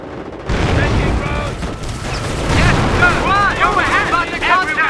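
Dense battlefield gunfire in the Company of Heroes Romania mod, with continuous rifle and machine-gun bursts mixed with booming explosions, loud and close throughout, under a game voice that shouts orders.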